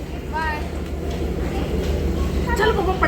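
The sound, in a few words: train stopping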